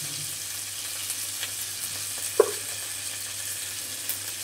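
Spices and sugar frying in a pan for an ol, potato and prawn dalna, giving a soft, continuous sizzle with one sharp clink of a utensil partway through and no talking.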